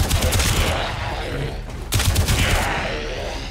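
Sustained rapid gunfire from a primary weapon in the sci-fi shooter Warframe during a mastery rank test, dense bursts filling the whole stretch with a brief dip midway before firing resumes, loud and close.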